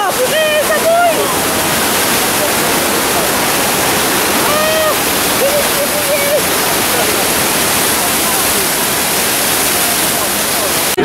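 Rushing, splashing water pours steadily on a Universal Studios tour, a loud continuous roar like a waterfall, with excited voices and short shrieks heard over it.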